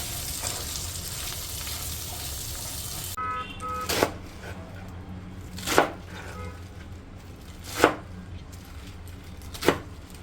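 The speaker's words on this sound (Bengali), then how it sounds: "শাকগুলো আমি এভাবে কুচিয়ে নিলাম।" Spinach leaves are chopped with a knife. A few sharp, separate chops land roughly every two seconds after an opening stretch of steady frying sizzle from a pan of potato and carrot pieces.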